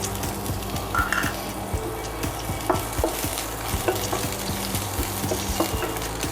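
Onion and two dried chillies fry in hot oil, a steady close sizzle broken by regular scrapes and light clinks of a spoon stirring through the pan, with no voices.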